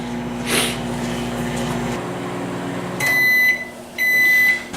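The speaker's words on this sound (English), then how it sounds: "Microwave, 1 minute, there it goes." A microwave oven hums for a couple of seconds, then falls quiet before two long, loud electronic beeps sound in succession.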